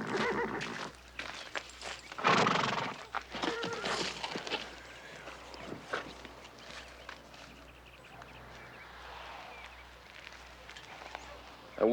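An old, sick horse neighs and whinnies in a ranch setting, with hoof clops and shuffling, loudest early then fading to quieter movement.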